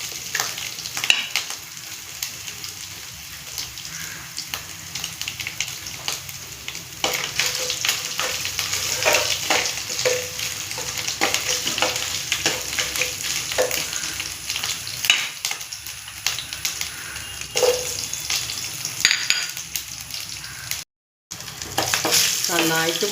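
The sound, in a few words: ginger and garlic frying in a pan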